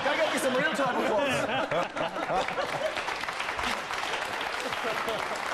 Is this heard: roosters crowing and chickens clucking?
no